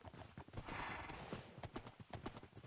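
Horse hooves in the video game Minecraft clip-clop in an irregular series of light, close taps, with a brief whinny-like tone early on, no talking over it.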